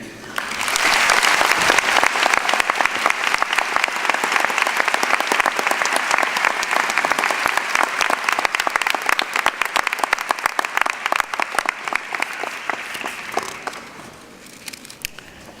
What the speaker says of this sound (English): One more time, can we have a big round of applause to all of our speakers?